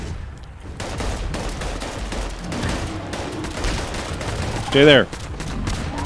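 Gunfire in Fallout 76 during a fight with a level 80 legendary Noxious Sheepsquatch, bursts of shots crackling under a player's voice, with a brief louder blast near the end.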